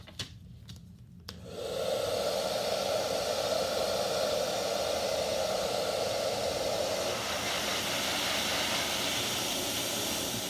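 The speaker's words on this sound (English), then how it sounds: "the blow dryer doesn't really get every single spot at once" A hair dryer set to its hottest setting blows hot air onto a sheet of paper, a steady loud rushing whoosh that switches on after a short pause and roars continuously to the end.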